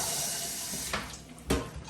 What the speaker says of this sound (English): we'll just fill that up with water